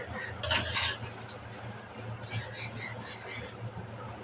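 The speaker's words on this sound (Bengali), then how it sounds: "লবণ দিয়ে একটু নাড়াচাড়া করে নেব।" A bitter gourd fry seasoned with salt is stirred in a pan, with a spatula scraping and clinking against the metal in uneven bursts, close and fairly quiet, under soft talk.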